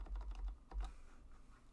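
Close, quick keystrokes on a computer keyboard as HTML table code is typed for a JavaScript BMI calculator, two short bursts of clicking followed by a quieter tail, with no voice.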